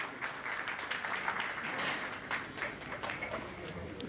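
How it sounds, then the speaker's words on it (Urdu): Applause rises from the audience at an award ceremony in Sialkot as the chief guest arrives, a dense, steady patter of clapping lasting throughout, moderately loud with a room's reverberation and faint voices mixed in. "بھرپور تالیوں سے ان کا استقبال کیجیے گا۔"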